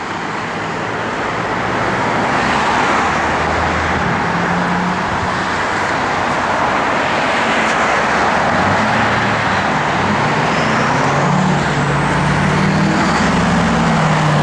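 A 1970 Chevrolet Camaro SS with headers and a Muncie close-ratio four-speed manual drives along, its engine a steady low rumble under broad road and wind noise, fairly loud and continuous throughout.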